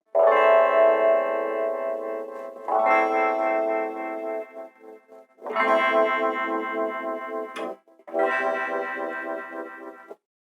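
Guitar run through a simple DIY phaser effect pedal, four sustained chords or notes with a swirling, sweeping phase tone, strong and close, separated by short pauses, no talking.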